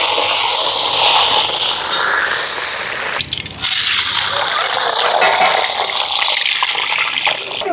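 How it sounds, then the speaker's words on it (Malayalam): Hot frying oil, used to fry onions, raisins and cashews, is poured into a pot as a continuous close gushing pour with a brief break midway before it resumes. "നേരത്തെ സവാളയും മുന്തിരിയും അണ്ടിപ്പരിപ്പെല്ലാം മൂപ്പിച്ച എണ്ണ നമുക്ക് ഈ പാത്രത്തിലിട്ട് ഒഴിക്കാം"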